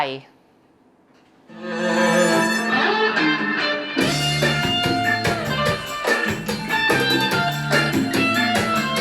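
A pop song plays loudly from an Apple HomePod at maximum volume after a brief quiet start, with full instrumentation and a strong beat throughout.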